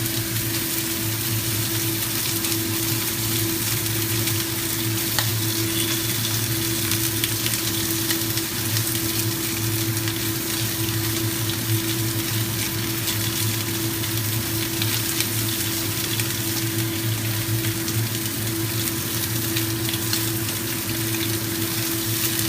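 Fatty pork sizzles and fries steadily in a pan while being stirred, a loud, continuous crackle with a constant low hum underneath and no talking.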